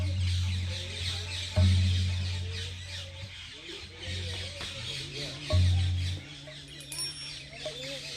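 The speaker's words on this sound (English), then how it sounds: "The birds are already singing quite loudly here." Birds sing loudly and chickens cluck, with repeated chirps and calls layered over a low droning hum that swells in several long bursts, close and fairly loud.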